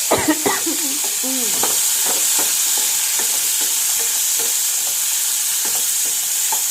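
Snake gourd sizzles loudly in a hot pan while being stirred, a steady bright frying hiss with scraping spoon strokes throughout and a brief clatter as it goes in.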